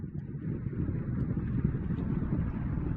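Orion launch vehicle's first-stage rocket engines and port and starboard boosters at full power about two minutes into flight, heard as a steady, loud, low roar with wind-like rumble throughout.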